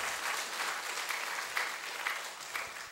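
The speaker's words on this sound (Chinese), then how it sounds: "再热烈掌声来感谢我们地鼎师师姐" Steady applause from an audience at a religious gathering, a continuous dense patter of many hands clapping for about three seconds with no voices over it.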